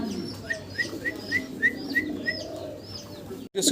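Pigeons coo in a repeated, evenly spaced series of soft calls over quiet background noise, ending with a brief rustle.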